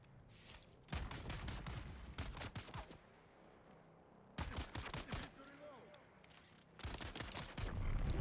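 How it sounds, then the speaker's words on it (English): Bursts of enemy gunfire striking a player's ship in the video game Deep Desert, three loud rapid volleys each lasting about two seconds, separated by quieter stretches with faint background rumble. "he was shooting at my ship"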